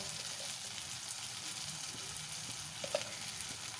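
Spice paste for rohu fish kaliya sautéing in a pan, a steady soft sizzle with faint stirring scrapes throughout and one brief sharper tick near the end.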